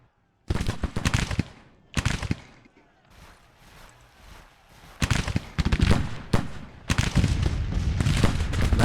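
Musket volleys and artillery fire in Grand Tactician: The Civil War, a battle strategy game: loud crackling bursts of gunfire come in repeated clusters, with heavy booming shots in between, building to a continuous roar near the end.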